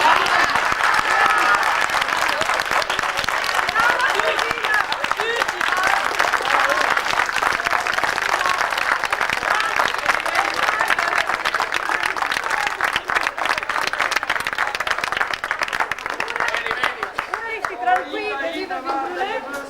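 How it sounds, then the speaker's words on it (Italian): A large audience applauds loudly and steadily for nearly twenty seconds at an evening village gathering, with chatter and voices mixed into the clapping and a few louder shouts near the end. "mi vorrei che fai un applauso grosso, ma veramente grosso a Agnesina"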